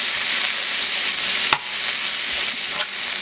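Callaloo (Jamaican spinach) frying in a pan, a loud close continuous sizzle with a sharp clatter midway and a couple of softer knocks, no voices.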